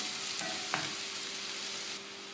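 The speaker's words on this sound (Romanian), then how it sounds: "când s-a încins adăugăm ceapa" Chopped onion sizzles steadily in hot oil in a pan, a dense continuous frying hiss with a couple of brief stirring clicks, close and fairly loud, no voices.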